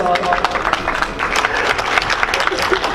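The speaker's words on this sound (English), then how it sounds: "Huge round of applause." A conference audience at Sindh University Campus Thatta applauds as a guest is called to the stage, a busy crackle of clapping hands with voices mixed in underneath.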